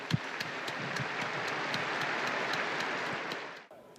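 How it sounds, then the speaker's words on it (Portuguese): A large crowd applauds the newly beatified during a papal address, a dense, steady wash of clapping that holds evenly for several seconds before cutting off abruptly near the end. "Un applauso ai nuovi beati."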